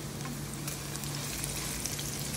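Food fries in a pan with a steady, dense sizzle and crackle throughout, a constant hissing texture with no voices over it.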